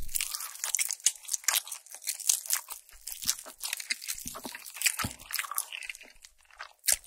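Crunchy Korean fried chicken, in honey and red gochujang flavours, is chewed close to the mic with dense, rapid crisp crunches and bites that continue steadily throughout, with no talking.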